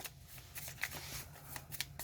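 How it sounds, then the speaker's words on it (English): Pokemon trading cards from a Scarlet and Violet deck are shuffled close by, a quick run of riffling flutters and soft snaps with a couple of sharper card clicks, over a faint hum. "I didn't get any basic Pokemon on opening hand, so I have to shuffle and redraw"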